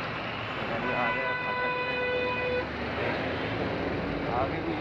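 Train passing a railway crossing near a grain market in Delhi, with a steady rumbling roll and a sustained horn toot, heard close and loud under a speaking voice.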